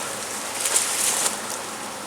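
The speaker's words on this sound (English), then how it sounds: "That's a lot of bees." Honeybees swarming around a hive, a loud, close, continuous buzz of many insects that swells slightly midway.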